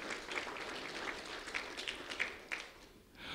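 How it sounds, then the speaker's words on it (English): Applause from an audience at a school event, fairly faint and scattered, with individual hand claps standing out from the crowd as the clapping tapers off toward the end. "A round of applause for Mr. Deming."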